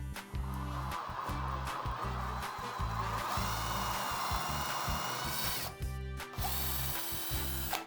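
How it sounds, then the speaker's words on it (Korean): A cordless household drill set to drill mode bores a hole through wood, its motor whining steadily at close range for several seconds with a brief dip and restart near the end; no talk over it. "오늘은 나무만 먼저 한번 뚫어 보도록 할게요"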